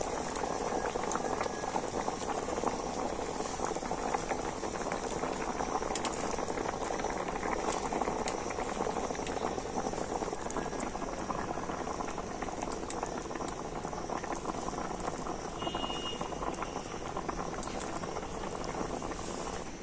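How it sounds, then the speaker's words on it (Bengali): Curry with chickpea-lentil fritters boils in a covered pot on the stove, a steady close bubbling and gurgling that runs continuously without pause. "আবার আমি ঢাকা দিয়ে পাঁচ মিনিট কিন্তু খুব ভালো করে ফুটিয়ে নেব"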